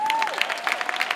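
Audience applause at a summer tourism campaign speech, dense clapping from a crowd, fairly loud and steady, with a rising whistle-like cheer at the start.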